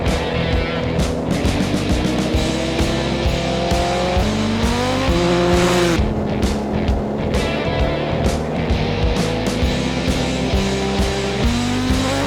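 A Yamaha R1 5VY 50th anniversary sportsbike pulls hard along a bumpy road, its engine note rising and falling through repeated gear changes, loud and continuous over steady wind and road rumble.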